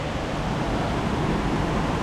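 A steady, loud rush of falling water at a waterfall on a solo hiking trail, a broad continuous roar with no breaks and no voices over it.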